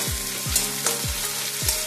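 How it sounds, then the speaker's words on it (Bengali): Onions fry in peanut oil toward browning, a dense steady sizzle broken by four evenly spaced scraping strokes of a stirring spatula, close up with no talk. "পেঁয়াজগুলো এরকম বেরেস্তার মতো করে ভাজবো"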